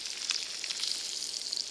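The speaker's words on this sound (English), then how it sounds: "Flesh side down into the frying pan." Fresh halibut fillet, flesh side down, sizzles in a frying pan outdoors in Greenland, giving a steady close crackle with small popping spatters.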